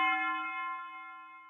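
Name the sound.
church bell sample with reverb and tape delay effects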